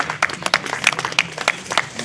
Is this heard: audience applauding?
yes